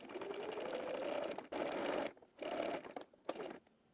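A sewing machine runs a narrow zigzag stitch, 0.5 width and 2.5 length, along the edges of a Hazelton wrap dress, in one long whirring run and then a few shorter bursts separated by pauses.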